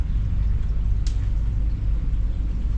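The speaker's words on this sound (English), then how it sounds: "It's thunder and lightning" Pouring rain hisses steadily around a motorhome while low thunder rumbles beneath it, with one brief sharper burst standing out in the heavy downpour.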